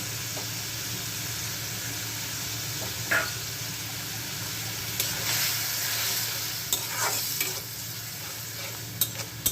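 Shrimp with sugar and already-fried spices sizzles in a pan, with repeated sharp scrapes and clacks of a spatula stirring it, close and fairly quiet, with no voices.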